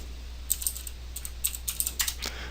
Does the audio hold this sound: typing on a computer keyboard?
yes